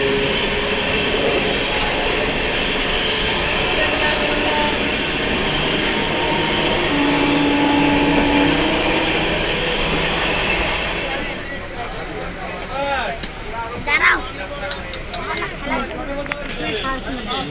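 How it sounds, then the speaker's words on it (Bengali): A train pulling out and running on the rails near Coochbehar station, a loud continuous rumble and drone heard from on board that gives way to rattling and clicking of the carriages with scattered sharper clanks. "ট্রেন ছেড়ে দিল"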